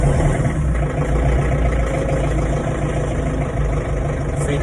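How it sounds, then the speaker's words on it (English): A feeder tractor's engine idles steadily on a cold, rainy cattle farm, a loud, continuous low rumble that holds unbroken with no speech over it. "Feeder tractor just got them started."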